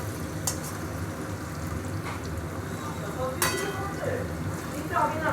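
Tomatoes and spices fry in a pan while being stirred, making a continuous sizzle with scraping strokes and a few sharp clinks of a utensil against the pan; no one speaks over it.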